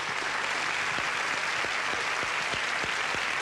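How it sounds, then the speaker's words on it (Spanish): TV studio audience applause welcoming a guest named Miriam on a Saturday variety show, a steady wash of clapping with a few sharper individual claps standing out, fairly quiet and brief. "a Miriam, a quien recibimos con un gran aplauso"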